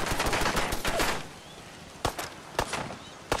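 Enemy gunfire in the Fallout 4 video game crackles in a rapid burst of shots, then a few sharp, separate cracks follow after a short quiet stretch, all close and fairly loud.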